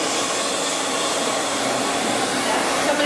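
A hair dryer blows steadily at close range during a salon blow-out, a continuous loud whooshing roar with no pauses for about three seconds.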